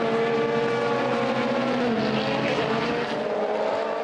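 Race cars scream past on the Portimão circuit during a 4-hour endurance race, a loud, continuous engine roar with shifting pitch as several cars pass close by.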